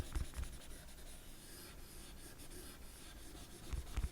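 A pencil shades and smudges across paper in a soft, continuous scratchy rub, quiet and close, with a few small taps at the start and end.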